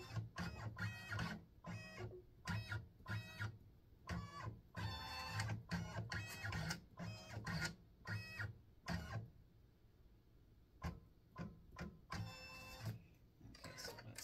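An embroidery machine sews placement stitches for a tic-tac-toe board set, giving loud, rapid mechanical bursts of stitching separated by short pauses, close by, with no one talking.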